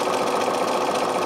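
Sewing machine stitching quilt blocks in a continuous chain, a steady fast mechanical whir and clatter heard close up and alone.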